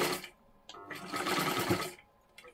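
A sewing machine double-stitches a katori blouse, close and moderately loud, running in short bursts with brief pauses between, the longest run lasting about a second.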